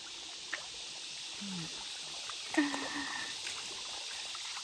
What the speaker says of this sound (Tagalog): Tapos may batis.